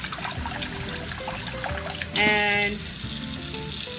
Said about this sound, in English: I like to just slowly pour the water in through my hand